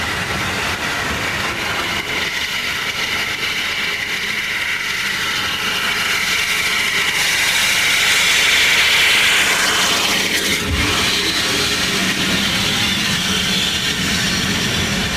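Steam locomotive 80135 rolls past a signal box on a heritage moorland railway, a loud, continuous rumble and rush of wheels and carriages that swells toward the middle and then eases, with no voices.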